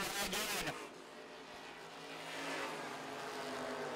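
Street stock race cars roaring around the Lancaster Motorplex oval, a dense, continuous wash of engine noise with a brief louder burst early on, heard at a distance with a commentator talking over it.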